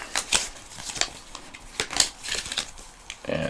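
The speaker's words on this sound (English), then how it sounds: "So I'm going to go ahead and shuffle it up" Game cards for Good Cop Bad Cop are shuffled by hand, a series of quick riffling and flicking bursts at an uneven rhythm, close and moderately loud.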